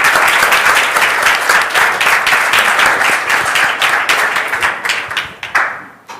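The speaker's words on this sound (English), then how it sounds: "So let's give him applause and invite him to the stage." An audience at a stage event claps loudly and steadily as a speaker is invited up, the applause thinning into scattered claps and fading out at the end.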